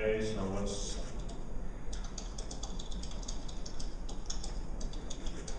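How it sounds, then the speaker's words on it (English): Two-finger typing on a computer keyboard produces irregular clusters of close, crisp key clicks with uneven pauses, heard alone without speech. "2-finger typing, folks."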